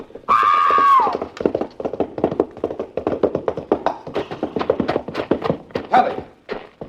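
Horses racing in an old-time radio mystery drama sound effect: a loud whinny opens, followed by fast, close, continuous clip-clop hoofbeats galloping in a steady rhythm.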